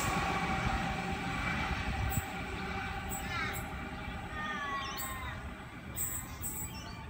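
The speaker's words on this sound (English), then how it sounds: "We have a Waratah arriving onto platform 2, Campbelltown service" A Waratah train pulls into a platform at Casula station on a Campbelltown service, with a loud steady rumble and rolling clatter, squealing brakes and high tonal whines from the motors, and a voice talking over it.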